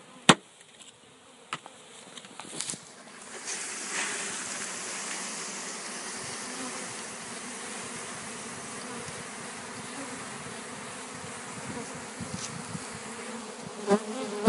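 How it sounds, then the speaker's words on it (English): Honey bees being poured into a new hive, a dense, steady buzzing swarm that rises after a few sharp knocks and holds at an even drone throughout. "now we got to put the rest of the bees in here"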